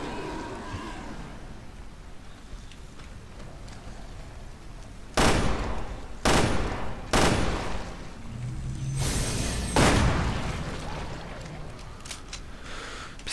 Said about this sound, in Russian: Пистолет судьи Дреда с сильным выстрелом знает свое дело